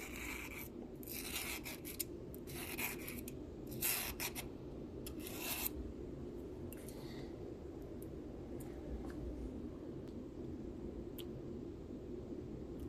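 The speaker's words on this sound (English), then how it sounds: "Running the radius of the spring along the file will remove any burrs." A spring's radius edge rubbed back and forth along a metal file to take off burrs, giving soft repeated rasping strokes in short bursts, faint and close over a steady low background hum.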